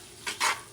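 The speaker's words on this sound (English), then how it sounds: "Mix it up" A spoon stirring tomato paste into corned beef in a cooking pot, giving two short scraping swishes close by, the second longer than the first.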